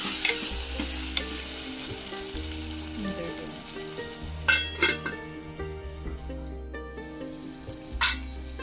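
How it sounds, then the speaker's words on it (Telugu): Thinly sliced potatoes stirred into broad beans frying in a pan, a loud close sizzle with repeated scraping strokes and a few clanks of the spoon on the pan, under a steady background hum. "ఆలు వేసుకొని ఒకసారి కలుపుకొని మళ్ళీ మూత పెట్టేసుకుందాం"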